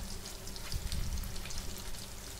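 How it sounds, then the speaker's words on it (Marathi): Homemade paneer cubes fry in oil in a pan over a medium gas flame, giving a steady, fairly quiet sizzle and crackle that runs unbroken throughout, with no talking. "गॅस अगदी मीडियम ठेवून आपल्या पनीरला छान तळून घ्यायचं आहे."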